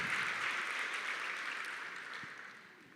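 A church congregation applauds together in a broad, steady wash of clapping that is loud at first and gradually fades over a few seconds, with no talking over it.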